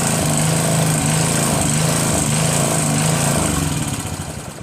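A Briggs & Stratton 3.5 HP engine runs on a Northern Hydraulics pressure washer, a steady, buzzy, close small-engine drone with a fast pulsing beat that fades slightly at the end.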